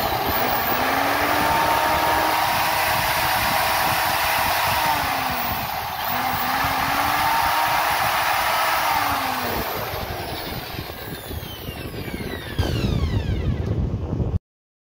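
A repaired 12 mm router machine runs with a loud, continuous motor whine and hum, pitch wavering slightly, then winding down near the end before cutting off.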